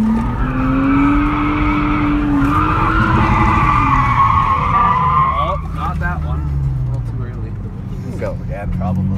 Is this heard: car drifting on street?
yes